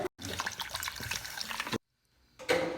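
Water pours in a steady rushing stream, stops abruptly, and after a short silence a splash of liquid starts again.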